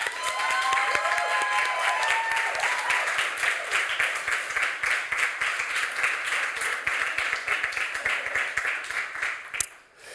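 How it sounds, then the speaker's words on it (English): An audience applauds at an award ceremony in an embassy hall, dense clapping that holds steady and then tapers near the end, with a brief voice early on. "once again a warm round of applause for Sikenikwa"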